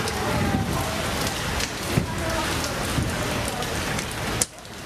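Heavy rain pours down in Kolkata during Durga Puja preparations, a loud, dense and steady downpour that fills the whole scene, with a sharper drop or clatter standing out near the end.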